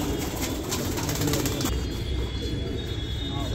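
Pigeons, a flock of about 70 fighting and running pigeons in Amroha, fluttering out of a net, a dense burst of wing flapping and shuffling for under two seconds, then quieter rustling with a faint background hum.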